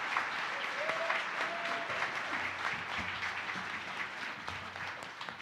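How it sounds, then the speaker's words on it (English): An audience at a live community crowdfunding event gives a sustained round of applause after a presenter finishes, dense and even clapping with a few faint voices underneath. "Let's give Helen a round of applause."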